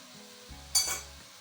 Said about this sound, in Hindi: अब हम इसको अच्छी तरह फ्राई कर लेंगे ताकि टमाटर इसके अंदर मैश हो जाए